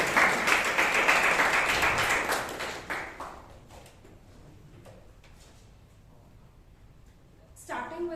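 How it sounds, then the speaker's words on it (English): Audience applause at a Bangalore Toastmasters club meeting greets the grammarian: a dense burst of clapping for about three seconds, then thinning into scattered claps and quiet room noise before a brief rustle at the end. "Round of applause, please, to Toastmaster Rashi."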